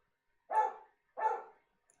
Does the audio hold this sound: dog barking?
yes